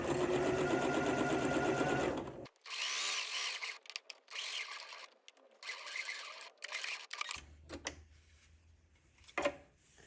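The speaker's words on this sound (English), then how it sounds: "I am stitching my cuffs, and notice how I'm leaving that area loose because I don't want to stitch that in." Sewing machine stitching shirt cuffs, a fast close rattling run of stitches, then stop-and-start bursts with pauses and handling sounds, ending in faint clicks.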